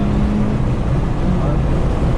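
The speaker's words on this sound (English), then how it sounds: "Giving it gas, gas, gas, gas, gas." A car engine on a race track roars loud and steady under full throttle, a dense continuous drone with wind buffeting the microphone throughout.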